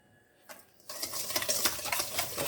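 Soft room-temperature unsalted butter being mixed in a bowl, a steady scraping and slapping rhythm of the utensil that starts after a brief quiet moment and continues close and clear.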